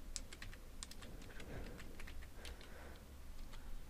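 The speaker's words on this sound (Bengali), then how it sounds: "এই গুগল প্লে স্টোরে প্রবেশ করে লিখব বাংলা ডিকশনারি" Someone types a search on a keyboard, with a quick run of soft, close clicks over faint background hum.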